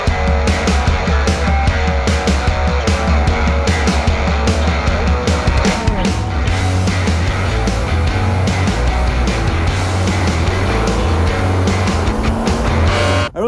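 A 4x4 truck towing an RV pulls forward on soft ground, its engine droning loud and steady close by while the tires grind and slip for the whole stretch, with no talking.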